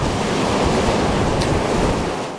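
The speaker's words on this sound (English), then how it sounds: "soaring waves swept logs and debris on shore" Storm-driven waves pound the shore at Ross Bay in Victoria, a loud, continuous roar of surf with heavy wind buffeting the microphone and a steady wash of noise throughout.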